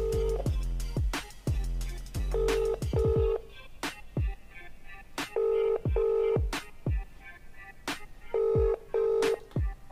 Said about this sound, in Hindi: दोबारा कॉल लगाता हूं अभी इसको मैं फिर से